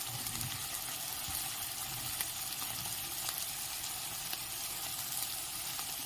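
Steady, even sizzle of ground spices and turmeric hitting onions fried deep red in hot oil for a dhaba-style egg tarka, close and continuous with no talk.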